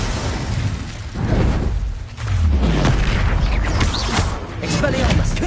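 An Incendio fire spell from a Harry Potter video game bursts out in loud, booming whooshes. Several blasts follow one another amid continuous game-effect noise.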